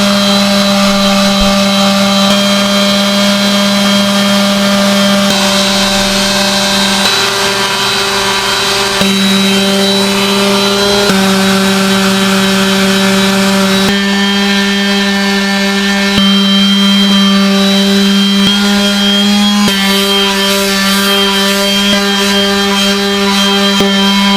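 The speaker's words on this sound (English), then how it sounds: "we'll move on to the sanding" A power sander sanding wood drones steadily at close range with a constant tonal whine, shifting slightly in pitch every few seconds as the pressure changes.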